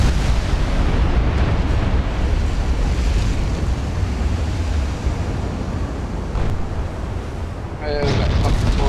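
A torpedo striking a warship in Ultimate Admiral Dreadnoughts: a heavy, rumbling roar of explosion and churning water that fills the whole stretch, with a short bright burst near the end.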